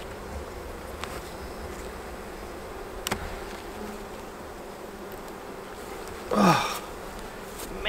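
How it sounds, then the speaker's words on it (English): Honey bees buzz steadily around an open hive during an evening inspection, a soft continuous drone with a few near fly-bys and a louder pass late on, plus a brief exclamation. "Some more bees are back."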